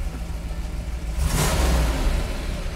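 A 1969 COPO Camaro replica with a 427 V8 fires up: a quiet lead-in, then a surge of loud rumbling engine noise that holds steady at a rough idle.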